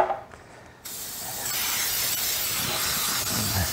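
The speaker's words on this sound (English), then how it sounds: "I've got a 9x5 little baking pan here for our eggnog bread, and I've got my old trusty spray here." A nearly empty can of cooking spray hisses steadily and loudly, close by, as it coats a 9x5 baking pan, beginning after a short pause and continuing to the end.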